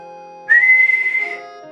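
A single sustained whistle blast in The Grizzled game, starting sharply and holding one steady pitch for about a second before fading, loud and clear with nothing else heard.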